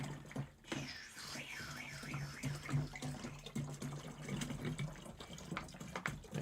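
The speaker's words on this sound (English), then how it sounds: "Just going to refill my water bottle." A tap runs steadily while a water bottle is refilled, a soft continuous splash and trickle with faint background hum, fairly quiet throughout.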